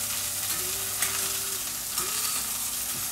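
Duck breast (magret) roasts fat side down in a pan with its rendered fat, giving a steady close sizzle and crackle with a few faint utensil clinks.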